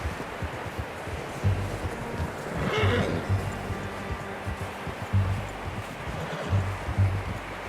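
A horse in Red Dead Redemption II whinnies loudly near the three-second mark, with clip-clopping hooves and soft rustling heard on and off around it.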